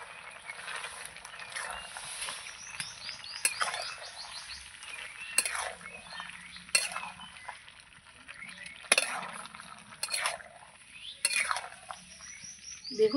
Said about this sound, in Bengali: এবার আবার একটু নাড়াচাড়া দিয়ে নেব।